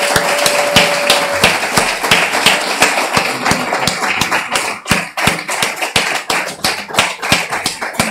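Audience applause at an award ceremony at a ceramics and creative talent conference, a dense run of sharp claps that starts strong and thins into scattered, irregular hand claps.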